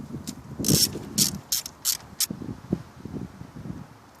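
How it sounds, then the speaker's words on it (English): A socket wrench ratchets off the side bolts on a Lexus ES300 knock sensor, giving several short, close bursts of clicking with brief pauses between them. "I used a 14mm socket to get these 2 side bolts off"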